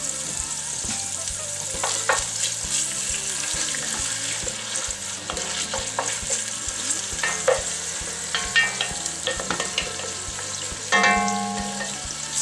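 Garlic and onions softening and turning golden in a pot for a pot roast, sizzling steadily up close with occasional stirring scrapes and clinks, no one speaking.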